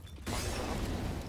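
A molotov bottle shatters in Counter-Strike on the Cobblestone map: one sudden crash of breaking glass after a quiet moment, flowing straight into a dense, sustained burst of noise.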